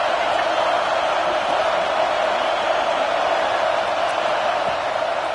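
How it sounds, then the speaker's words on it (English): Home stadium crowd at an LSU game in College Football 26 roars in a dense, steady wall of cheering that holds constant at high volume throughout without any talk over it. "Here comes this home crowd as the defense tries to get off the field on 3rd down."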